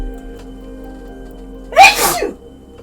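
One sharp sneeze bursts out close by after a quiet moment with faint background hum.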